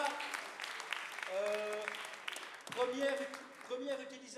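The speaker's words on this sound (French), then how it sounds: "On applaudit Héros Tendance." Audience applause at a slam poetry contest after scores are read, broad clapping noise mixed with an overlapping announcer's voice and tonal sounds throughout.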